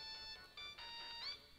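A phone ringtone sounds during a Pokémon Pearl game session, a faint, tonal electronic melody of short repeating notes lasting under two seconds, heard alone without talk.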